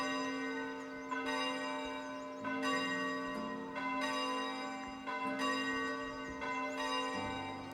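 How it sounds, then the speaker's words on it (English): Village church bells ring in the video game Foundation, a sustained, resonant peal of several struck tones overlapping continuously, with new strikes about every second, clear and steady with no talking. "You can actually customize the bells to sound how you want them."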